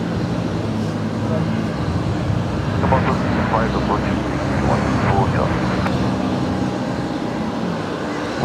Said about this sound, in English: You might just get Qatar taxiing past